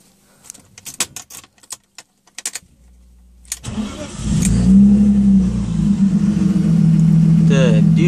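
Car engine being started on petrol: keys jangle and click first, then the starter cranks and the engine catches into a loud, steady idle with a slight rev, close by, with a voice speaking over it.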